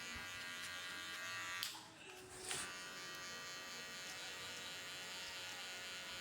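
An electric hair clipper buzzes steadily and close while cutting a mid skin fade, its tone dipping briefly as it touches the hair.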